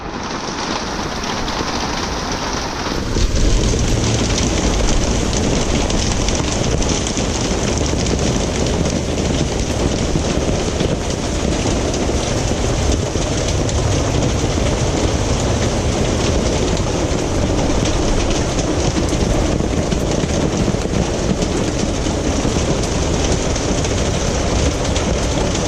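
Heavy rain pours down in a dense, steady roar during prolonged wet weather, loud and unbroken from beginning to end with no voices.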